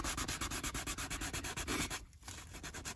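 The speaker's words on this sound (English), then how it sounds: "So we're just going to continue our sanding" Sandpaper sanding filler on a Jaguar XJR leather seat, with close, fast back-and-forth rasping strokes in a steady rhythm, briefly pausing before resuming, with no voices.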